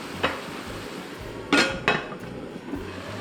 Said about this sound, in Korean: 제가 이제 뚜껑 덮어 놓을게요